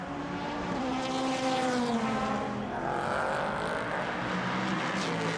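A Mazda-powered IMSA Prototype Challenge race car lapping Circuit Trois-Rivieres, its engine note rising and falling steadily and loudly throughout, with a continuous roar and shifting pitch as it pushes through a lap.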